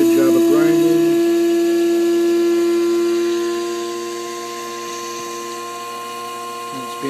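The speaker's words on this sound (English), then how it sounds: "Pretty high speed, pretty good job of grinding." A coffee maker grinding beans at high speed, a loud steady whirring whine that drops in pitch and level halfway through, then runs on more quietly.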